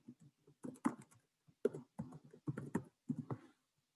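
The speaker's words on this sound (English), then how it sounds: "I'm just typing my email right now." Keys clatter in quick irregular bursts, close-up typing on a computer keyboard with short pauses between flurries.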